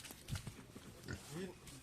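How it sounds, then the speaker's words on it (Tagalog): Pigs on a farm grunting and oinking up close, several short low grunts followed by a higher squealing call, with faint voices in the background. "Yan po yung kay Ma'am Yuli guys na mga baboy."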